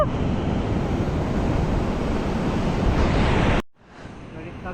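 Rough sea surf crashes in a dense, loud wash with wind noise on the mic at a fishing spot, then the roar cuts off abruptly near the end and returns quieter.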